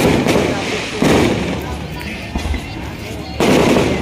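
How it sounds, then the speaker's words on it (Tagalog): Loud booming bursts of fireworks, several in a row, echoing amid crowd noise and voices. "May pa fireworks."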